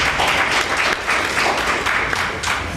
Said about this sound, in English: would you please give them another round of applause?